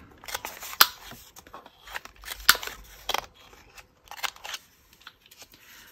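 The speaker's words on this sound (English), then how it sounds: "I'm just going to trim this little" Scissors snip through paper while trimming pieces for a handmade gratitude journal, several sharp close cuts in irregular bursts with quiet pauses between them.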